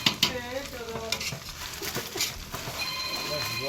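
Food fries in a pan for egg biryani, with a constant sizzle under quick stirring scrapes and voices nearby.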